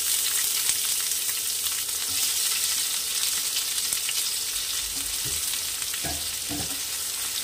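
Chopped onions with a pinch of black cumin (kalo jeere) fry steadily in hot oil for a Bengali fish curry, a constant close sizzle with occasional scraping stirs near the end.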